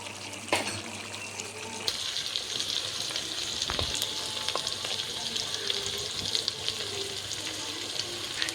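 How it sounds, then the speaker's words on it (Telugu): Onions and green chillies frying in a pan for a pulao, with a steady close sizzle throughout and a few brief clicks and clatters, no talking. "ఉల్లిపాయలు పచ్చిమిరకాయలు వేసాం కదా అవి వేగుతున్నాయి"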